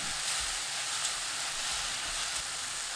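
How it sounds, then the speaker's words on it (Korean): Enoki mushrooms with minced garlic and Korean soup soy sauce stir-frying in a hot pan give a steady, close sizzling hiss with slight scraping texture, running continuously without talk. "국간장 한 큰술 넣고 15초 볶습니다"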